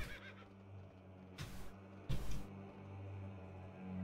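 A horse in the World of Warcraft video game whinnies in two short bursts over a quiet, low game background, fairly soft and without talk.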